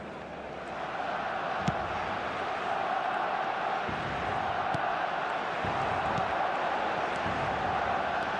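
Stadium crowd noise from the eFootball video game on a clear night, a steady dense roar of many voices that stays loud and even throughout, with no distinct chants or claps standing out.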